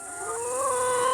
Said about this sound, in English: So I'm just gonna give the rest of this one to the chickens.